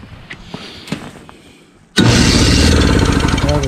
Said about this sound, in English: So we got the engine started, runs on its own